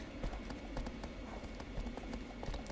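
Horse galloping across open land in the video game Shadow of the Colossus, a quick, steady run of soft hoof clops repeating evenly, faint and distant-sounding with low background ambience.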